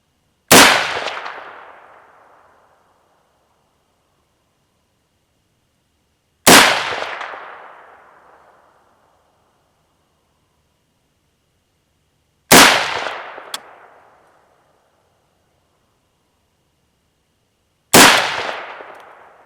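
Four single AR15 rifle shots at a shooting range, spaced about six seconds apart. Each is a loud, sharp crack with a decaying tail, separated by near silence.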